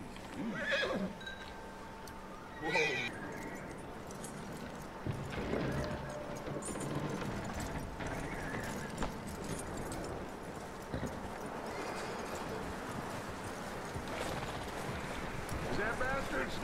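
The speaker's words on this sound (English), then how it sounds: "Get that horse hitched. Don't want him bolting." Horse neighing and hooves clip-clopping in the video game Red Dead Redemption II, with whinnies near the start, then steady hoof steps and ambient game sounds while a voice talks over them.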